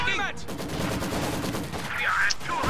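Gunfire crackles steadily from a World War II real-time strategy match with Volksgrenadiers, with a grenade blast among the shots, while a commentator talks over the battle.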